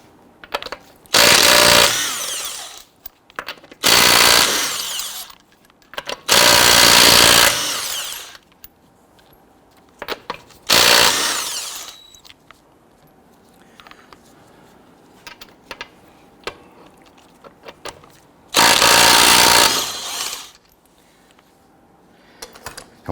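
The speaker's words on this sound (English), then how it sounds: "Using a 21mm socket, we're going to loosen and remove the lug nuts." Impact gun loosening the lug nuts with a 21mm socket on a 2006-2012 Toyota RAV4, several loud bursts of whirring and rattling, each a second or two long, separated by quieter pauses.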